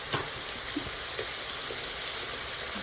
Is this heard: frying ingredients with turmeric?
yes